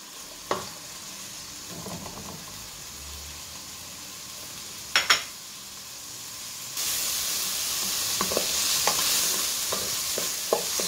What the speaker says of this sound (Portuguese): Deixa dar uma refogadinha também.